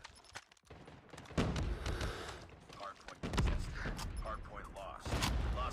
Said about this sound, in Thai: โอ้โหป้อมปืน อีกแล้ว ทำไมเขากดป้อมปืนกันได้ง่าย ๆ จังอะ